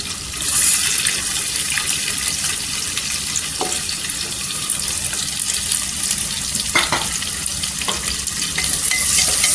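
Sliced onion hits hot oil already carrying ginger, sizzling loudly and steadily while a spoon scrapes and stirs through the pan at close range, with no talking.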